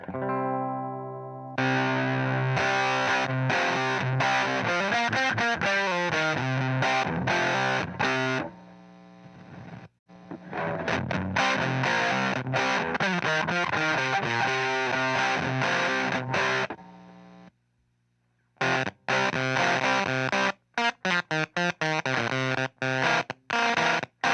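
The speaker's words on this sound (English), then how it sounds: "I'll show you what that sounds like if I turn the bias all the way down" A heavily distorted electric guitar through a distortion pedal with the bias turned all the way down plays loud chords and riffs, with a harsh, spitty, fuzzy texture and brief pauses between phrases.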